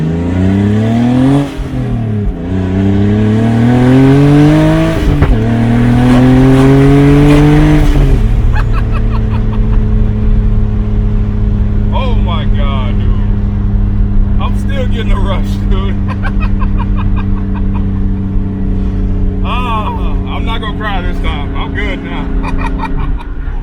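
A powerful turbocharged BMW E36 engine revs hard, pitch sweeping up and down through several throttle blips, then settles into a loud, rumbling idle with occasional crackles.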